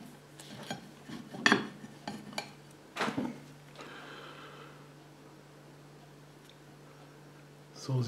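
Knife and fork cut into an Agro on hot dog on a plate, giving a few soft clinks and scrapes in the first three seconds, then only a quiet steady hum remains.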